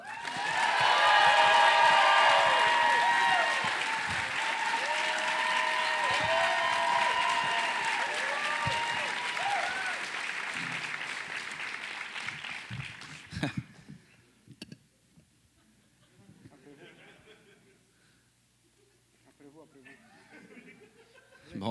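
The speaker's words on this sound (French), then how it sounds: "veuillez accueillir mes invités sous un tonnerre d'applaudissements" A live podcast audience welcomes guests with loud applause, cheering and laughter, a thick roar for about thirteen seconds that then cuts off abruptly, followed by quieter talk.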